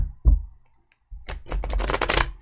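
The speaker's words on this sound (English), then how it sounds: "One more shuffle." Tarot cards being shuffled by hand, a short soft riffle at first, then a pause and a longer run of dense papery flicking and fluttering, close and fairly loud with no talk.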